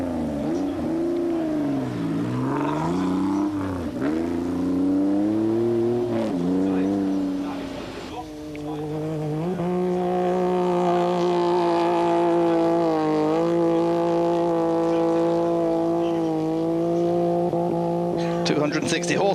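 A Mitsubishi 3.5-litre 24-valve V6 rally car of about 260 horsepower, racing in the 1998 Paris-Dakar, drones loudly and steadily with rising and falling revs, dipping briefly midway, under continuous commentary.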